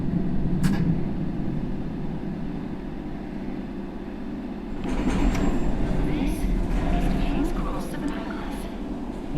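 A London Underground Circle line train runs in the World of Subways game, with a steady low rumble of motors and wheels that swells louder about halfway through, with a voice speaking over it.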